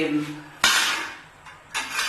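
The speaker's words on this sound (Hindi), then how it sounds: "कुकर मैंने रख लिया है चूल्हे पे" A metal pressure cooker is set down on a kitchen stove, giving two sharp clanks about a second apart, each ringing briefly after a soft voice at the start.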